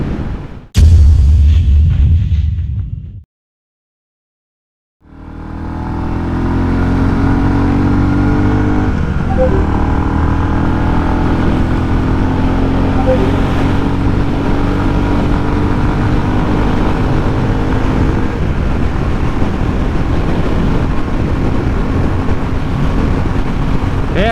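A 2022 Royal Enfield Classic 350 carrying two riders cruises at highway speed, its engine droning steadily under heavy, roaring wind buffeting after a brief silent gap near the start.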